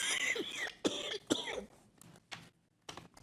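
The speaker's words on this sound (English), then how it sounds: "so when I cough, it's really bad" An adult with asthma coughs and clears the throat during a county board meeting, a run of harsh, close coughs in quick bursts, then a few fainter ones trailing off.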